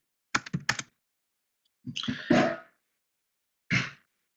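Keys clatter on a computer keyboard in quick bursts, a cluster of rapid taps followed by a longer run and a final short burst, close and fairly loud with pauses between.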